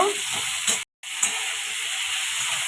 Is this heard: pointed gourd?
yes